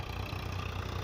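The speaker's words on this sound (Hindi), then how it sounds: "हाई के फर्स्ट गियर में ट्रैक्टर जो है 1200 से 1400 RPM पर इतना शानदार चल रहा है।" Swaraj 855 tractor, a 45 hp model, running in high-range first gear at about 1200 to 1400 RPM while pulling a two-bottom mechanical plough in a field: a steady, close diesel chug with a low throbbing rhythm.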